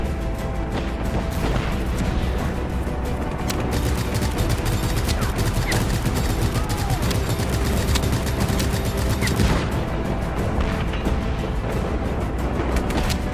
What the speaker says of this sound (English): Yep, machine gunning.